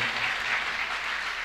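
Audience applause filling a mushaira poetry gathering, a steady dense wash of clapping sustained throughout the short stretch with no voices over it.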